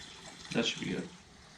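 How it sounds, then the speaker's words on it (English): Fuel trickles through the inline filter of a 2004 Suzuki Katana motorcycle, a brief soft liquid burst lasting about half a second, close by and fairly quiet. "Fuel running through the filter."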